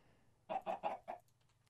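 A chicken in modded Minecraft gives four quick, soft clucks in a tight burst, close and otherwise quiet apart from a low background hum.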